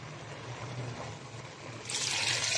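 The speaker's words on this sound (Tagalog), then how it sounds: "Lagyan ko na ng tubig." Water pours and trickles steadily into a pot of pork sinigang with tomatoes, a soft continuous splash that grows brighter and louder near the end.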